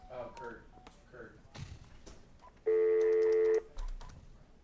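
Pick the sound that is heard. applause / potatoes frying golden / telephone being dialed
telephone being dialed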